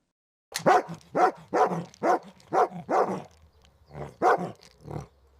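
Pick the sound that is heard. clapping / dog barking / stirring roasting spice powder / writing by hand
dog barking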